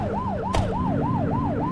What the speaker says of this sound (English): Turn that siren off.